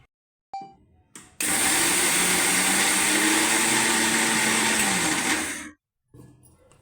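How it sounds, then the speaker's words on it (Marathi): A mixer grinder grinding soaked rice whirs loudly and steadily for about four seconds, starting abruptly after a few soft clicks and stopping just as suddenly. "आता आपण ते बारीक वाटून घेऊया"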